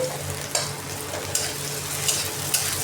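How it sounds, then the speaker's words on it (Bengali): Potatoes fry in oil in a pan over a low gas flame while being stirred. A steady close sizzle runs throughout, with a spatula scraping the pan about every second. "তো আলুটাকে প্রথমে ভাজা ভাজা করে নেব।"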